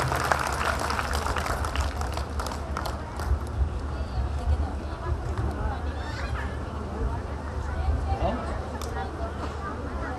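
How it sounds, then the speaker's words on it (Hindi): Loud, continuous applause from an audience at an inauguration ceremony for a hall in Desuri, filling the whole stretch with dense clapping and crowd noise, steady throughout with no clear break. "तालियां जोर से।"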